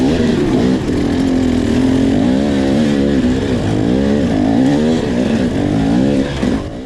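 Dirt bike engine labouring and revving up and down while climbing rough terrain during an extreme hard enduro race, loud and close, with a steady, fluctuating drone throughout.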